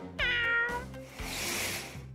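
A cat meows twice in clear, close, harmonic calls, with a busy toy-themed soundtrack and soft thuds underneath, no talking.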